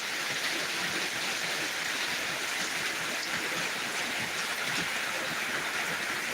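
Torrential downpour over Dinajpur Sadar, Bangladesh, a dense, steady roar of heavy rain that stays loud and unbroken throughout, with no voices.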